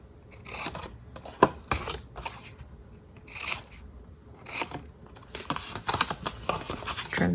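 Scissors trim paper tabs on a handmade butterfly gift box, giving bursts of short crisp snips and scraping cuts in uneven clusters, close by and fairly quiet, separated by brief pauses.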